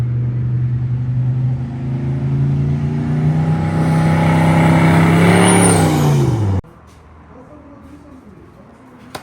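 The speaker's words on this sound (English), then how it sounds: "a lot of y'all wanted to see this truck spool" A GMC truck engine revs up with its turbo spooling into a rising whistle near its peak, then cuts off abruptly, leaving a quiet background.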